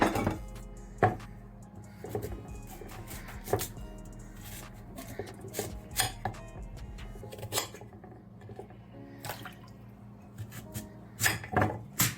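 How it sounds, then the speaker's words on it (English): Repeated knife chops through washed, peeled sweet potato against a cutting board, irregular thuds and clicks close by, with faint kitchen clatter in the background and no talking. "Now that the potato is all washed and peeled, I'm gonna cut them."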